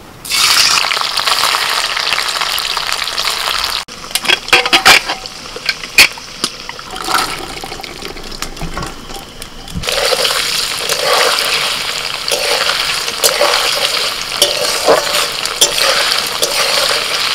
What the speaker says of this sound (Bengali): তেল গরম হয়ে গেছে, এবার পনিরগুলো ভেজে নিচ্ছি।